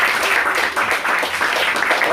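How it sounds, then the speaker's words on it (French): Cabaret audience applauding in a dense, continuous burst of clapping that stays loud and steady for about two seconds. "on applaudit Andréane"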